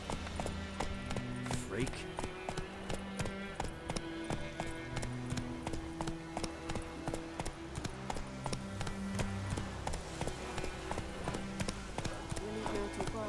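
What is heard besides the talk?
horse Roach galloping, from the video game Witcher 3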